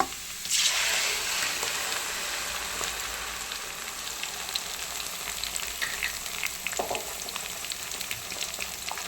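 Tomato puree goes into a hot frying pan with a burst of loud sizzling, then settles into a steady crackling fry with occasional stirring scrapes. No one speaks.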